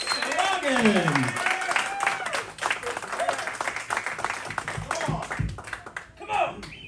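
A comedy club audience claps and cheers to welcome stand-up comedian Bradley Logan at a live comedy show. Dense, steady applause runs throughout, with a host's voice and crowd whoops layered over it.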